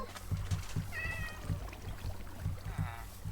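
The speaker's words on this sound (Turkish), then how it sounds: "Aa kediler çok tatlı." A cat meows twice inside a modded survival video game, fairly clear harmonic cries over a steady low rhythmic thumping of game background sound.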